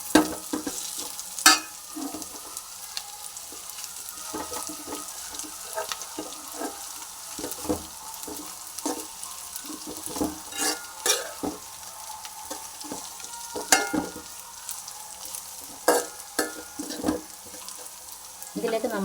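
Shallots sautéing in hot oil in a pan for chicken curry, a steady close sizzle with frequent scraping and clattering stirs, irregular and busy throughout, with no voices.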